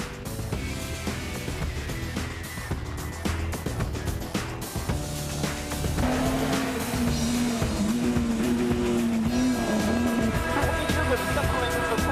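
A Peugeot rally car drives flat out on a hot ERC rally stage in Austria, its engine loud and continuous with revs rising and falling through gear changes and a brief tyre squeal.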